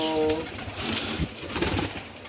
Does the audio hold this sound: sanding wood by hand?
no